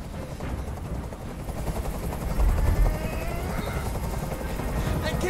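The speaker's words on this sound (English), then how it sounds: "I can't stand that noise anymore! Tell that helicopter to get out of here!" Helicopter in the video game Detroit: Become Human whirs in a continuous rotor drone beneath a tense hostage scene, with game voices and ambient noise mixed in and a brief low thud partway through.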